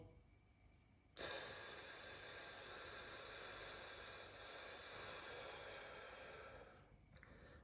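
A person doing a slow breathing exercise inhales and holds the breath, giving one long, steady breathy hiss that starts abruptly and runs for several seconds before fading. It is heard close, with no talking.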